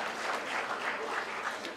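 An audience at a Greek culinary gala applauds the Greek ambassador to Canada, a steady and dense clapping that holds evenly through its brief length.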